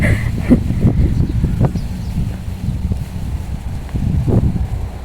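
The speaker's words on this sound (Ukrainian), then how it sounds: "О, який вітерок, вітер подував." Gusty wind rumbles against the microphone in a vegetable garden in low buffeting bursts, steady throughout with a faint rustle, no voices.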